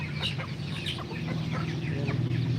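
A flock of buff and white chickens clucks and chatters steadily at feeding time, close by, with a constant low hum beneath and no talk.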